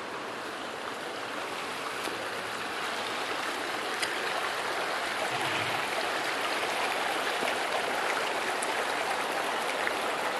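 Purgatoire River in Trinidad, Colorado, running low, its steady broadband rush of flowing water continuing unbroken and fairly close throughout, with no talking.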